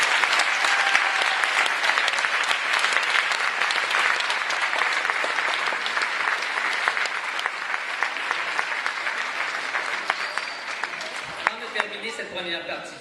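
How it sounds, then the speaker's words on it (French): An audience at a gala breaks into loud, sustained applause, a dense wash of many hands clapping that slowly thins and fades near the end. "Applaudissons-les une dernière fois."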